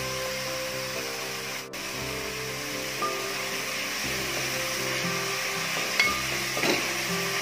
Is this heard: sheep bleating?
no